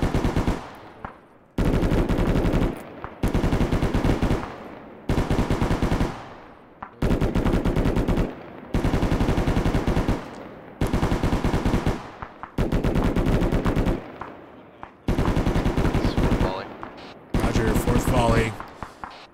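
Several machine guns fire in long, loud, sustained bursts, roughly nine of them back to back with short gaps, harsh and close with rapid rattling reports.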